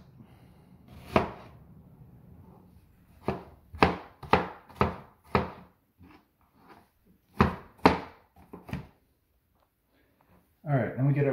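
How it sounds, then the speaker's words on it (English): A knife minces ingredients for barbecue beef with peppers and onions on a cutting board, giving a run of crisp, close chops in quick bursts with short pauses between them. "Now what we do is come down this way and it minces it."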